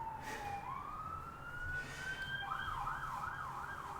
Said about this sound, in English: never mind the sirens in the back